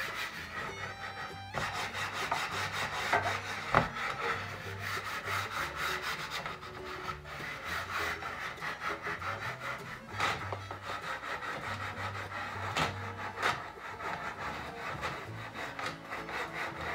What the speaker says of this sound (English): Just wanna take your brush, get some wax on there, and just go over